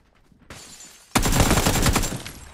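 Gunfire in the battle royale video game PUBG on PS5, a faint shot followed by a sudden loud burst of rapid automatic fire that rattles on for about a second and a half with no talking.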